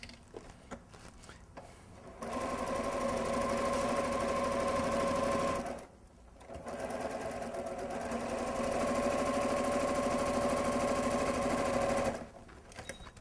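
A sewing machine stitching bias-cut fabric at regular stitch length, running in two steady, loud whirring bursts with a brief pause between them, close up and with no talking.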